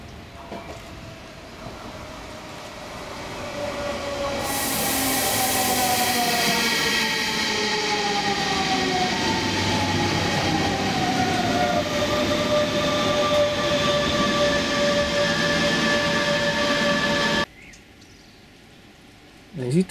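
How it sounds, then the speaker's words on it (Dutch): A short freight train rolls past with a second locomotive pushing at the rear, a loud rising rumble with squealing, rising and falling wheel tones before cutting off abruptly. "En dit is de lok die achterop duwt. Beide locomotieven geven tractie."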